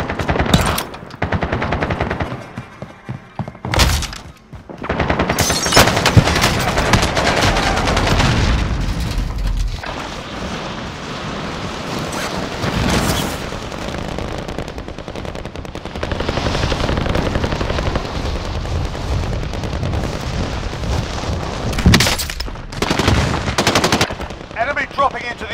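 Sustained video game battle gunfire with rapid machine-gun bursts and booming explosions, loud and dense throughout with brief gaps, helicopter-like rumble underneath.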